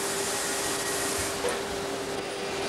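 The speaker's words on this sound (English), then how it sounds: "When it gets to 150, the machine should be ready to actually cause the vacuum." A vacuum forming machine shaping an aircraft seat part runs with a steady, loud broadband whoosh and a constant tonal hum, with one small clunk midway and no talk.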